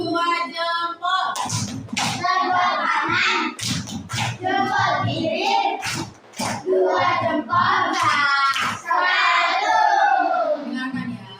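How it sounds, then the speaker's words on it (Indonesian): Classroom of children clapping out a rhythmic 'two thumbs' cheer pattern in unison, sharp repeated claps mixed with loud group chanting and shouting throughout. "Tepuk dua jempol."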